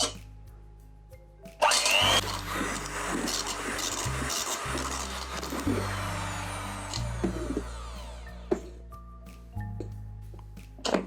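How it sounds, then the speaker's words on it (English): An electric mixer beats egg whites in a metal bowl toward stiff peaks, giving a loud, close motor whir with rattling beater scrapes. The pitch shifts in steps as speeds change, with brief pauses and occasional talk. "we're going to beat the egg whites until they are stiff peaks"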